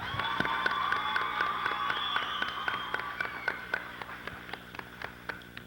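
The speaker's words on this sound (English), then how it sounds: "I'd like to give these ladies a big round of applause" Pageant audience applause for the contestants: a crowd's clapping that thins out into scattered, individual claps, with a faint steady tone lingering in the background.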